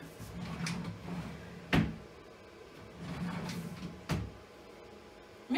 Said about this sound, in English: So now let's see if my drawers fit in.